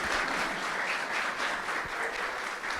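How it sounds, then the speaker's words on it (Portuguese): Clapping from a small podcast studio audience for two guests, a soft steady round of applause lasting a few seconds with no voices over it. "tem que aplaudir o Gabriel e aplaudir o Anderson agora também"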